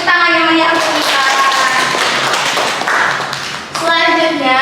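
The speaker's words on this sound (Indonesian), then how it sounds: "Semua beri tepuk tangan yang menyaksikan." A classroom of students claps during a micro-teaching maths lesson, a burst of crowded clapping between stretches of a teacher's voice at the start and end.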